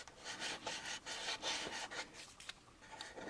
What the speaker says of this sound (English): when you sand like this, you can actually cut into right through the paint and get back up into the